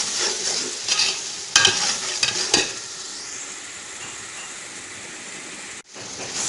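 Tomatoes frying with red chili, turmeric and dried coriander powder for desi chicken karahi give a loud, steady close sizzle, with scraping stirs early on and a brief dropout near the end.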